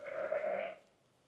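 A single sustained bleat from a ewe, moderately close and fairly quiet, lasting under a second, then fading into a quiet barn.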